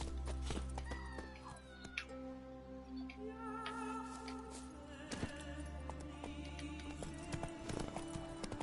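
Geralt's horse Roach from The Witcher 3 clip-clops along at a steady gait, hooves thudding in a continuous rhythm over a dense bed of game music and ambience, with a few sharper knocks standing out.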